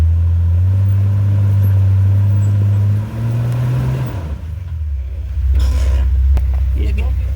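A Jeep TJ engine rumbles and revs low and steady as it climbs a rock face off-road, loud and close, dropping midway and then straining again with tire and chassis noise.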